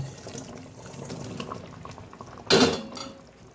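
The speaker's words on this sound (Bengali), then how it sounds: "তো আমি ডিমগুলো ছেড়ে দিব" Rohu fish roe drops into a hot pan of curry, giving a sudden loud sizzling splash after soft background kitchen clatter and bubbling, then a brief smaller crackle.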